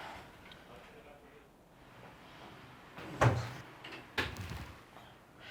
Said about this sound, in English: Do you want to just shut the door a bit?